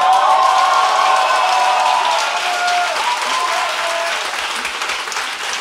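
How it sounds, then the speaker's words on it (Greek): Loud applause from a studio audience fills a large room, dense and steady clapping with some cheering and whoops, gradually easing slightly toward the end. "Ένα δυνατό χειροκρότημα από τους ελεύθερους!"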